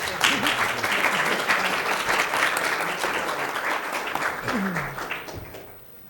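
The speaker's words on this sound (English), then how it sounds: "let's have a round of applause for our" Sustained audience applause at a law school symposium on intellectual property, a dense even wash of clapping that holds steady for several seconds before tapering off.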